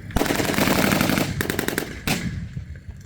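Rapid bursts of .50 caliber machine gun fire from a Humvee in a war video game, loud and dense, with sustained firing cut into shorter strings of shots.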